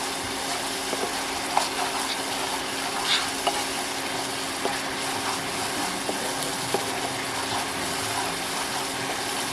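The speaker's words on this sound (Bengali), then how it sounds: "যতক্ষণ না মশলা থেকে তেল ছাড়ছে ততক্ষণ মশলাটা আমি ভালোভাবে কষিয়ে নেব।" Spice paste with a little sugar fries in a pan for a green pea dish, giving a steady, even sizzle with soft scraping clicks from stirring, and no talking.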